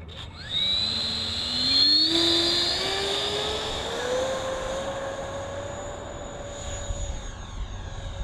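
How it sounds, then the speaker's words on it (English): E-Flite F-16 radio-controlled electric ducted-fan jet taking off, its high whine rising steadily in pitch as it speeds up and climbs away, loud at first, then fading gradually into the distance over outdoor background noise. "Taking off."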